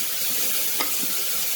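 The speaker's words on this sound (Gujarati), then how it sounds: "મિત્રો, વેજીટેબલ્સ સરસ એવા તેલમાં ફ્રાય થઈ ગયા છે" Vegetables and tomato frying in hot oil for poha khichdi give a steady, close sizzle, with a brief stirring scrape partway through and no voices.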